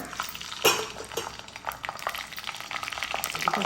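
Boiled eggs drop into hot, boiling oil in a pan, setting off a dense, steady sizzle and bubbling with one sharper splash and crackle early on and scattered pops after it.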